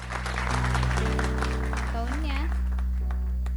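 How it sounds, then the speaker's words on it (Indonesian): Studio audience at a television talk show clapping in a steady continuous wash of applause, with a voice speaking over it and a sung or spoken musical phrase. "Tepuk tangan dong yang keras bagi Moka."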